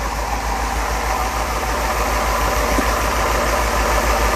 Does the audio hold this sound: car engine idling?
yes